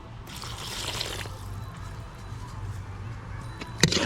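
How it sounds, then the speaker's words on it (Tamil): Water poured in a small amount into a pan of bamboo shoot gravy being cooked, a steady close trickle and splash that runs for about a second before fading under low kitchen hum. "இப்போ வந்து பார்த்திங்கன்னா நமக்கு தேவையான அளவு கொஞ்சமாக தண்ணி சேர்த்துக்கலாம்."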